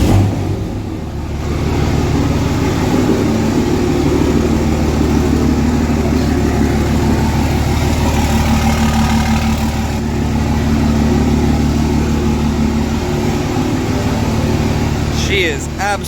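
A diesel truck engine with a grid heater runs cold after starting, giving a loud, continuous low rumble that holds steady throughout, with brief noises near the end.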